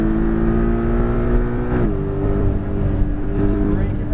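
A Porsche Cayman GTS accelerates at full power along a track, its engine loud and close with climbing revs and a brief shift partway through, a voice speaking over it.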